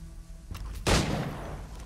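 A single loud gunshot fired in Assassin's Creed 3, a sudden sharp crack with a broad rumbling tail over low game ambience.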